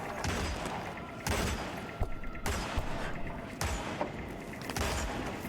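Gunfire in the video game Hitman during a SWAT-style training level played on a controller: four loud, close shots spaced about a second apart over a continuous game background.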